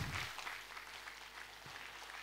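An audience at a spiritual gathering claps, a faint, distant wash of applause that holds steady across a couple of seconds.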